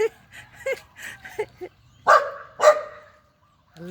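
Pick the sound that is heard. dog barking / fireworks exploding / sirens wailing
dog barking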